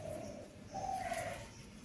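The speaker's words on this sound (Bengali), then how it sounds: "আর পাখিও ডাকছে, শোনা যাচ্ছে।" A pigeon coos softly in the distance, with other birds calling faintly, outdoors in drizzly hill-like weather.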